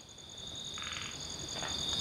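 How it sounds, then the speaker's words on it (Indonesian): Frogs croaking at night in dense, overgrown vegetation, two short bursts of croaking over a constant high insect drone, fairly faint and distant. "Kodok ngorek."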